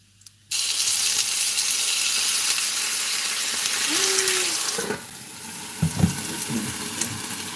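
Water hits a hot pan of potstickers with a sudden loud hiss that settles into steady sizzling and bubbling steam, with a few light clatters near the end and no voices.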